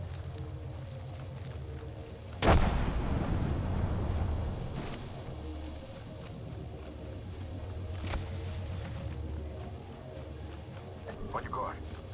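A frag grenade goes off in a video game at about 2.5 seconds, a sudden loud blast with a rumbling tail that fades over a few seconds, set against steady game ambience and later fainter thuds.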